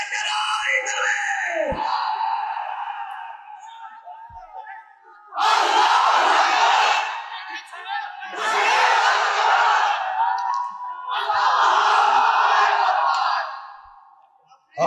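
A large crowd at an Islamic religious gathering roars the takbir response in three loud, sustained shouted bursts, following a single amplified voice calling out over a public address system.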